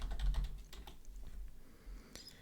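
Python code being typed on a computer keyboard: a short burst of close key clicks, then sparser, softer taps and one sharper keystroke near the end, with no speech.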